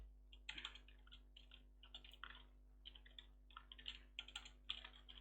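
Text is typed on a computer keyboard in quiet clusters of soft clicky keystrokes, irregular bursts with short pauses between, heard alone and fairly close.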